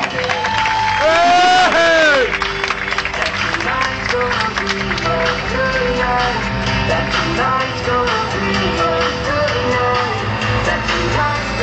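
A crowd claps and cheers loudly and continuously at a drift car event, with whoops and yells rising over dense applause and people talking in the mix throughout.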